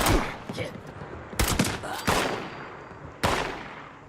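Gunfire in the video game Fallout 76: several sharp shots crack out at irregular intervals, loud and close, with bursts and echoing tails between them and no talk over it.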